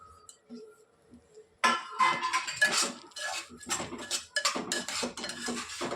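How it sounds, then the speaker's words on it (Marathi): Raisins, then cashew pieces, are stirred in a metal pan for a jaggery sheera, with a spoon scraping and clinking against the pan in quick, close, repeated strokes after a short quiet opening. "सगळ्यात अगोदर किसमिस घेऊन त्याला व्यवस्थित हलवून घेऊया. साधारण 15 ते 30 सेकंद हलवल्यानंतर त्यात आपण काजूचे तुकडे घालणार आहोत."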